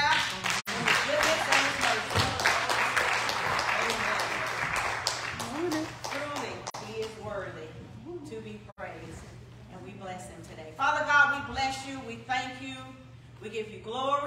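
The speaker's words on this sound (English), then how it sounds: "Come on, let's give God a hand clap." A church congregation at a Sunday morning worship service claps hands for about six seconds in a dense burst, then a voice speaks over a low steady hum with some scattered claps.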